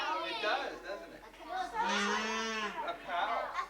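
Several children imitate a cow with drawn-out mooing voices, overlapping and close, in a classroom, with one longer low moo in the middle.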